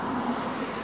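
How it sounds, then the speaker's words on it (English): Road traffic on a seafront, a constant, fairly loud rumble of nearby vehicles filling the whole moment with no breaks and no talking. "Sorry about the traffic noise"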